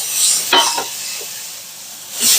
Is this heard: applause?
no